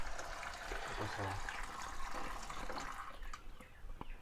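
Water is poured into a blender of chopped chick feed on a free-range chicken farm, a faint close splashing and trickling fill, with a voice briefly audible.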